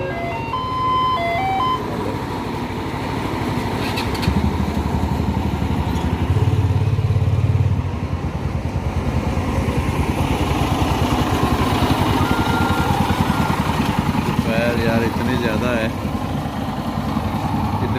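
A motorcycle rickshaw carrying a kulfi ice cream seller's machine, its engine idling and chugging steadily for a long stretch with a few faint beeps and street noise around it.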